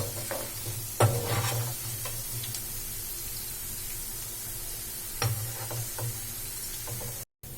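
Spinach pakoda sizzles steadily while deep frying in hot oil, a continuous crackling hiss over a low hum, with sharper spatters or stirring clinks near the start and again around five seconds.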